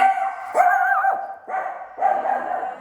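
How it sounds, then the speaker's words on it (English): A dog barks and whines indoors in drawn-out, plaintive bursts, three in close succession, loud and near with no talk over it. "Sorry about that, that's the dog."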